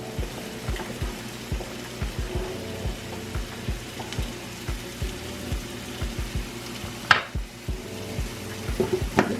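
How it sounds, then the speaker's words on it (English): A spoon stirs thick, bubbling grits in a pot, giving a run of soft regular scrapes and taps with a low simmer underneath, close and quiet, with one sharper knock near the end. "I'm going to give it a light stir."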